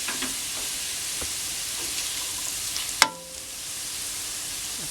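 Bacon fries in a pan with a steady close hiss and crackle throughout, broken by a single sharp metallic clank of a utensil against the pan near the middle, after which the sizzle softens slightly.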